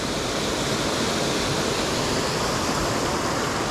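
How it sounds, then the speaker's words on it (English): Sweet Creek Falls in Oregon, heard from the lower viewpoint: a steady, loud, broadband roar of falling water that fills the whole moment without pause, no voices above it. "This is it, Sweet Creek Falls, the lower viewpoint."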